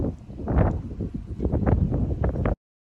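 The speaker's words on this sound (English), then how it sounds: "it has been very, very windy" Gusty wind buffets the microphone in close, irregular rumbling bursts on the north side of a stone hut, then cuts off abruptly into silence.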